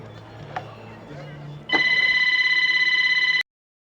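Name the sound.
telephone ringing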